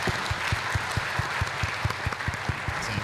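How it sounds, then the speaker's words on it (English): Audience at the GNU Radio Conference 2024 applauds a volunteer with sustained, even clapping from a large room, a couple of nearer hands beating out a steady rhythm within the crowd. "I would like to give a round of applause for Barry, who has really taken on this real"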